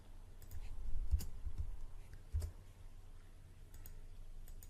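Faint, scattered computer mouse clicks in payroll software, a few sharp ticks spaced irregularly over a low, steady background hum.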